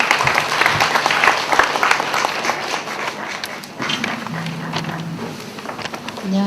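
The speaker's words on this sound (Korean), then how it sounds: "박수로 받아주시기 바랍니다." A conference audience applauds to welcome a speaker at a fashion industry trend briefing, with steady clapping throughout and a brief voice near the end.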